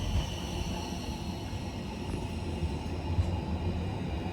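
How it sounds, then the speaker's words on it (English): A tram runs along an elevated viaduct in Rotterdam, giving a steady, even rail rumble with a faint higher whine and no voices. "we can get there using a tram"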